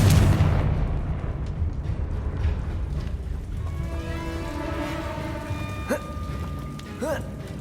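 A fiery spell blast erupts in the Hogwarts Legacy video game, starting as a loud rumbling boom that fades into a crackling tail with ringing tonal game effects, while a voice calls out the incantation.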